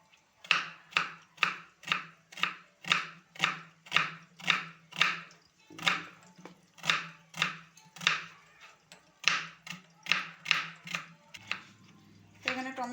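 A knife chops two onions finely on a board in a steady, close rhythm of about twenty sharp thuds, with a short pause midway before the chopping resumes.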